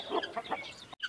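Chukar partridges kept as pets at a small mini zoo give a quick run of soft clucking calls, close and fairly faint, lasting about a second.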